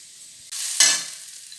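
Onions fry in a pan for a mushroom curry, half browned. A close, bright sizzle jumps up suddenly and then settles into a steady crackle as they are stirred.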